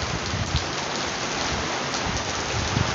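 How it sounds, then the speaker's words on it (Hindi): Steady, loud rain pouring down outdoors in a continuous dense hiss on surfaces, with no voices over it. "ये देखिए एकदम से बारिश शुरू हो गई है और बड़ा इतना मौसम हो गया है, बड़े मज़े की बारिश हो रही है"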